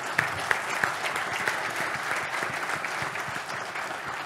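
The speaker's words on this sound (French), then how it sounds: "Sous les applaudissements, s'il vous plaît." Steady, dense applause fills an award ceremony for a performance trophy, a crowd clapping continuously at even loudness with a few sharper claps near the start.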